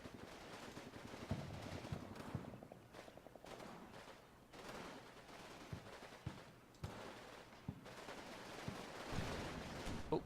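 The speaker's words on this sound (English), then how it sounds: "There's that small mortar shooting now." A small mortar and scattered gunfire thump and crackle in the WWII battlefield of Combat Mission: Battle for Normandy, Market Garden, faint irregular distant reports over a low rumbling background.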